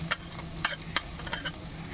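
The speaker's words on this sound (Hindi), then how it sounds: "चिकन को भी अच्छे से सौटे कर लेंगे" Chicken sautés in a pan with sweet corn, with a low sizzle under a few sharp scraping strokes of a spoon or spatula at irregular intervals, close and fairly quiet.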